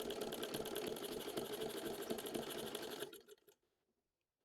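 A sewing machine stitches a folded ladies' trouser hem, running in a dense, steady whirring clatter for about three seconds before slowing with a few last thuds and stopping into silence.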